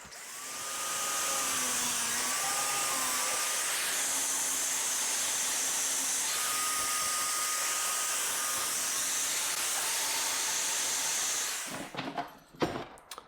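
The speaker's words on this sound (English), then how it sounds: "And then I grab the grinder and I cut off both pieces together just to save time." A grinder cuts through PTO shaft pieces, giving a sustained high whine with shifting tones that runs for about eleven seconds, then stops and is followed by a few clattering knocks.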